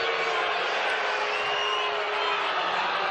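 A basketball arena crowd roars in steady, dense disapproval after a foul call at a UNLV versus Boise State college game, a broad sustained wash of voices with no single speaker standing out.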